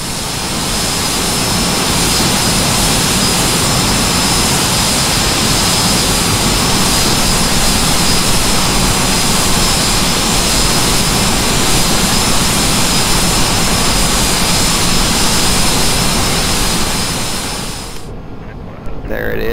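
Jet engine roar in a Citation II flight simulator as the landing gear lowers, a loud, steady broadband rush that holds for most of the clip before cutting off abruptly near the end.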